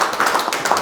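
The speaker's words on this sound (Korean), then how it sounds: "큰 박수 부탁드립니다" A church congregation claps after a Bible lecture in a short, steady patter of hands that sounds close and even, lasting under a second.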